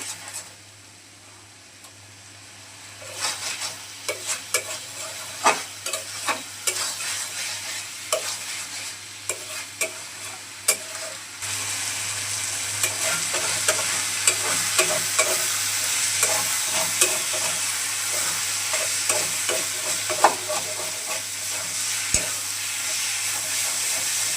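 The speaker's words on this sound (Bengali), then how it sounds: "সবজিগুলো সেদ্ধ হয়ে গেছে এখন কিছুক্ষণ নাড়াচাড়া করে নামিয়ে নেব" Vegetables with dried ketki fish stirred in a pan, a steady sizzle and hiss broken by irregular scraping clicks of the spoon; the frying grows louder and denser about halfway through, with no talk.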